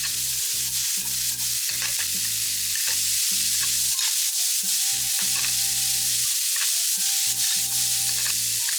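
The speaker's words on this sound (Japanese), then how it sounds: "強火でパリッと炒めて、" Vegetables stir-fried over high heat for yakisoba sizzle loudly and steadily in the pan, with stirring scrapes throughout and soft background music underneath.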